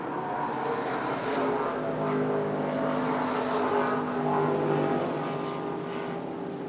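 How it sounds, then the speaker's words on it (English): Vintage Javelin and Mustang race cars at the Rolex Monterey Motorsports Reunion racing into a corner, a steady, loud blend of engine roar from mid-distance with slight rises and falls in pitch. "We got a Javelin Mustang drag race coming into the corner."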